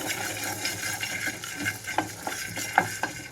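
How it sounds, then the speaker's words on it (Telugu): Peanuts stirred while roasting in a pan on a low flame, with a soft continuous scraping and rustling of nuts against the pan and a few light clicks, close and moderately quiet. "మధ్య మధ్యలో కదిలించుకుంటూ వేయించుకుంటున్నాను"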